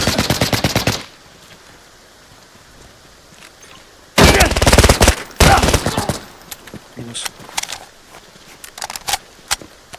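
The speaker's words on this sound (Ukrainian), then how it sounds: "О, стріляю" Automatic gunfire from a Vector submachine gun in the shooter game Arena Breakout Infinite, loud rapid bursts at the start and midway, followed by sparser single shots and distant clicks, with quiet game ambience between.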